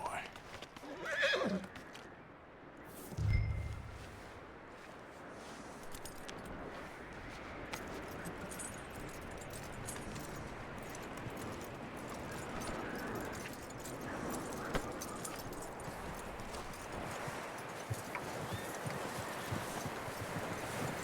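A horse whinnies loudly near the start in the video game Red Dead Redemption 2, followed by a long stretch of hooves and rustling movement with background ambience.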